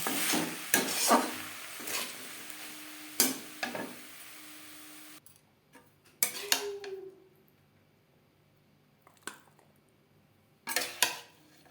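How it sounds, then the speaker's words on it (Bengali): Fried onion stalks are stirred in a pan and scooped into a bowl, with scattered scraping and clinking utensil strikes separated by quieter gaps, close and intermittent. "আর আমি রান্নাটা করলাম হাই টু মিডিয়াম ফ্লেমে পেঁয়াজ কলি ভাজা রেডি গ্যাসের ফ্লেমটা অফ করে দেবো একটা পাত্রে উঠিয়ে নেব"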